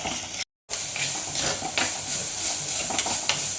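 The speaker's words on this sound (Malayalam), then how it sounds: "ഒന്ന് വഴറ്റിയെടുക്കാം" Sliced onions and shallots sautéing in coconut oil for a masala curry, giving a steady close sizzle with scattered stirring scrapes and one brief dropout near the start.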